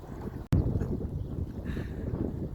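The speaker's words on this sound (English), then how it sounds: "Choppy water, it's windy out." Steady, rushing wind buffets the microphone outdoors beside choppy water, with one sharp knock near the start and no talking.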